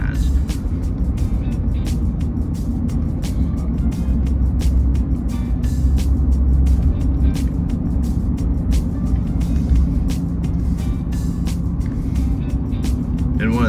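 A car cruises along the roads of Crooked River Ranch, a steady low engine and tire rumble filling the cabin throughout, with faint ticking and rattles over it.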